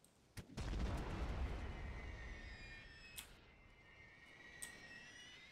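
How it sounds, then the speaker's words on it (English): Artillery cannon fire booms across a Napoleon: Total War battle under The Great War mod, one sharp blast swelling into a long rumbling roar, then a few distant thuds and cracks. "Get artillery in him."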